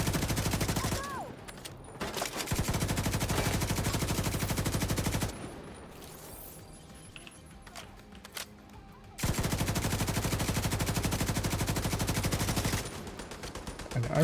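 An RPK light machine gun in a video game fires long sustained bursts of rapid automatic gunfire. Two extended strings of shots are separated by a quieter gap.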